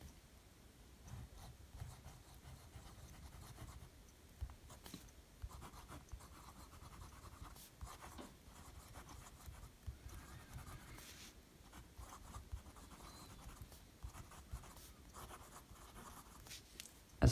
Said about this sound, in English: Here I have some Rhodia 80 gram dot paper, and we'll just do a little writing sample here.